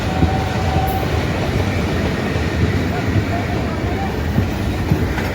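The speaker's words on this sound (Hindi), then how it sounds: "ये सामने वाली लाइन जो है सहारनपुर की ओर से आ रही है और कोई ट्रेन जो है ना ये है" A train rolls past on the adjacent line coming from Saharanpur, heard from aboard the Mussoorie Express, a steady loud rumble of wheels and carriages filling the whole stretch.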